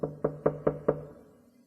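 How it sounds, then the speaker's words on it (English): Five evenly spaced knocks on a door, crisp and close, then a brief fading resonance, with no talking. "At Stella Vixen's door, he stopped and knocked quietly."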